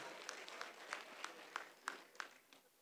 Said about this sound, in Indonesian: kepada Bapak Guntur Sakti, beri tepuk tangan yang gemuruh